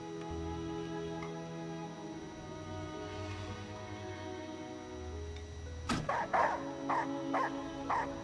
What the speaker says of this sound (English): I don't want a dog to be in here.